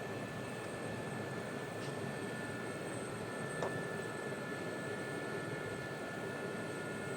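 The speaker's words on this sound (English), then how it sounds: "Definitely an incredible helicopter to fly in the Oculus Rift DK2." A Gazelle helicopter's engine drones steadily in a Polychop Simulations flight simulator game, a constant turbine whine and rushing hum holding at an even level throughout with no talking.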